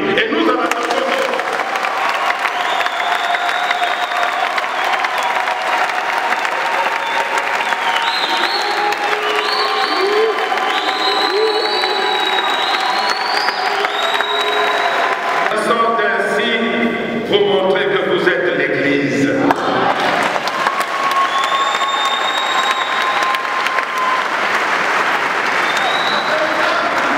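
Sustained applause from a large congregation at a memorial mass, steady and loud throughout with some cheering mixed in and a brief swell near the middle, no speech over it.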